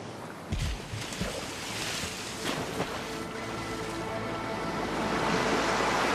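Steady roar of surf breaking along a shoreline, broad washing noise with a few sharper surges, continuous and fairly loud throughout.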